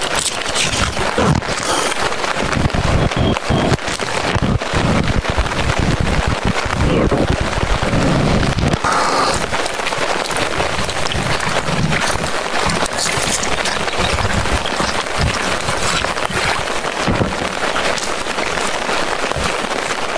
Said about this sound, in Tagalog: Umuulan, naligo tayo sa ulan.